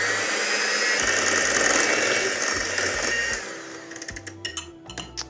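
Electric hand mixer whirring through pumpkin donut batter, a steady buzzing motor that slows and stutters into short pulsing bursts near the end, close and without talk.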